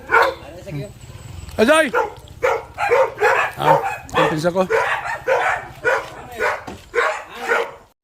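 A dog barks in short, repeated yaps at a village house, close by and mixed in with people talking.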